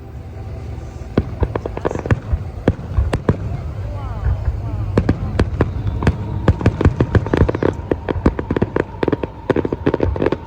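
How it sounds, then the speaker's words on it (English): Rapid fireworks bursts and sharp cracks pop irregularly at an outdoor fireworks show in Mountain Home, Arkansas, growing denser toward the end, with people talking in the background. "Here we are at Mountain Home, Arkansas, waiting for the fireworks."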